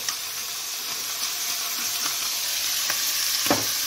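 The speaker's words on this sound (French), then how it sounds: "vous mettez de l'huile dans une poêle. Vous mettez vos encornets" Squid frying in oil in a pan, a steady close sizzle with a bright hissing wash and a few sharp pops and spatters standing out near the end.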